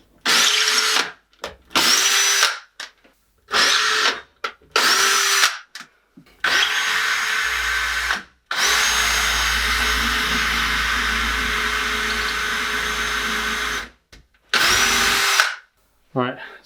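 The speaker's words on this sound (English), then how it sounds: "Now for a larger size drill bit." A power drill with a 5mm bit whirs in a series of short bursts into a wall for wall plugs, then runs in one long sustained drilling stretch before a final brief burst; loud and close.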